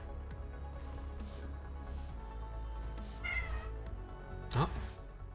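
A cat screaming: one short, loud, strained yowl rises near the end over a steady low background hum.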